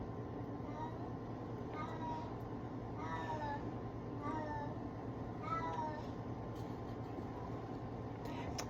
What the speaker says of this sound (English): my cat just started going off, like howling